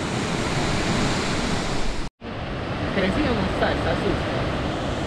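The Santo Domingo River near San Francisco, Antioquia, Colombia rushes with a loud, dense, continuous wash of flowing water. It drops out for a split second partway through, then resumes just as strong.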